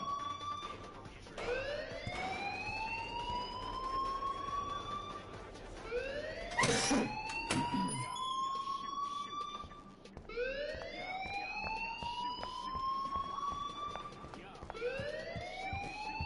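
An alarm in Life is Strange wails close and loud, repeating rising sweeping tones roughly every four seconds, with a brief burst of other noise partway through.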